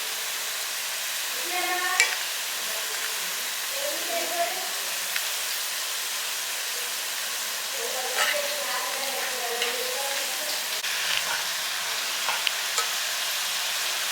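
Vegetarian kola balls fry in hot oil with a steady bright sizzle and hiss while they are gently turned, soft stirring scrapes now and then, and someone talking over the cooking.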